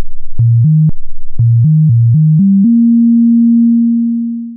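Sine-wave melody adapted from Mozart, played as pure electronic tones to demonstrate combination tones: a run of short, clean stepped notes ending in one long held tone that slowly fades.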